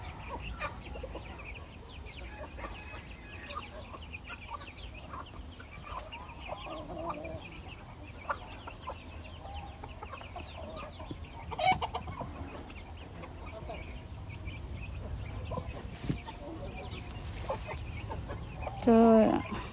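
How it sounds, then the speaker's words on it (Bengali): Free-ranging village chickens and ducks feeding in the morning, with clucking and scattered calls over a constant outdoor background, plus louder rustling and bumps toward the end. "সকালবেলায় যে হাঁস মুরগি ছেড়ে দিচ্ছে, তো এবারে খাইতেছে ওরা"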